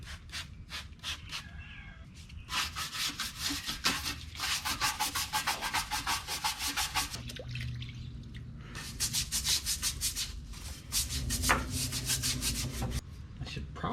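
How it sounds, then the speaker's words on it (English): Scotch-Brite brushes scrub degreaser off a caked, greasy surface in quick rhythmic back-and-forth strokes, coming in bursts with short pauses between, close and fairly quiet. "then I'm gonna scrub it off with these handy Scotch-Brite brushes that I got yesterday"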